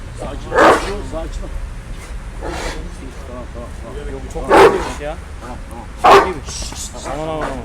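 Three loud, separate barks from a single large Turkish shepherd dog, close by, with quieter voices and background noise between them.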